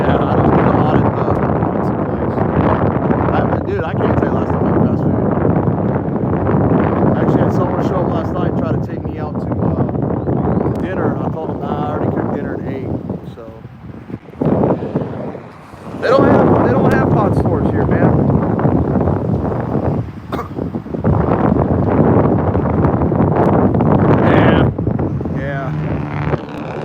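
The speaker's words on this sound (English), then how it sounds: "I can block the wind with my body, because the wind's blowing from behind me" Outdoor wind buffets the microphone at a street protest in Fort Worth, a loud, steady, rumbling roar that runs almost the whole time with a brief lull midway, while someone talks over it.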